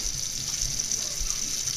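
Tap water runs steadily with a constant hiss, close and moderately loud, while water is drawn to proof yeast for kolachi dough; no one speaks.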